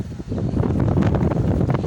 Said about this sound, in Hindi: ये बहुत तेज़ हवा चल पड़ी है।